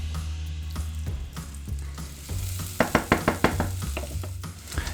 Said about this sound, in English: I'm gonna start off by sauteing these shallots.